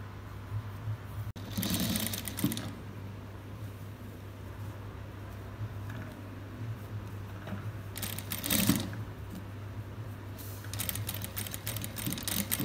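Sewing machine stitching a box pleat on a frock, running in a few short bursts of rapid needle rattle with quiet gaps between, close by over a steady low hum; no talk.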